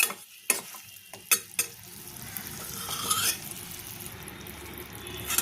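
Jaggery for a sesame-peanut barfi is stirred in a pan, giving a soft scraping and bubbling with a few sharp knocks of the spoon against the pan early on, then a steady close-up sizzle.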